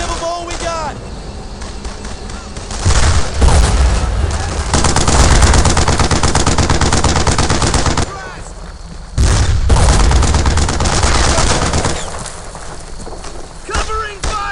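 Sustained bursts of automatic gunfire and explosions from a World War II shooter game firefight, a Château Colombières battle in Brothers in Arms: Earned in Blood, loud and dense in two long waves with brief lulls between.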